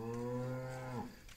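A single long, loud cow moo with a steady low drone, heard up close in a Javanese village setting and fading out at the end.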